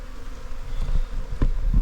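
Honey bees buzzing close by at a hive, a low droning hum with a few louder swells and soft knocks underneath.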